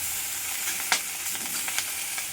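Fish frying in a small amount of oil, a steady soft sizzle running throughout with a few brief sharper pops and crackles, close and moderately quiet.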